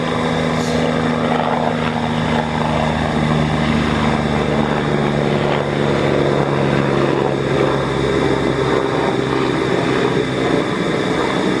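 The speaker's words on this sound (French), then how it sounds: "Alors là, ce qu'on entend qui passe, c'est un hélicoptère en 2026." Continuous loud rotor and engine drone of a helicopter passing overhead near a castle ruin, steady throughout with no pauses.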